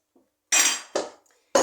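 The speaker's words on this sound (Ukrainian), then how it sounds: "І тепер зараз гарно-гарно перемішуємо." A spoon stirs homemade hard cheese curd in a metal pot, producing three distinct clinks and scrapes against the pot close up, with no voices.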